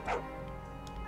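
Short dog bark in the Labyronia video game: a single brief yip near the start, moderately loud over a steady music bed, with no talk.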